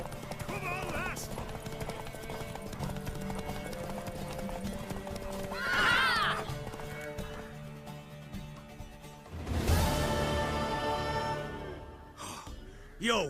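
Hooves pound in a quick galloping rhythm during a horse race in The Witcher 3, with two loud neighs standing out over music and occasional talk.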